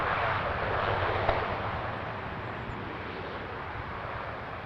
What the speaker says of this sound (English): Dashy on the roll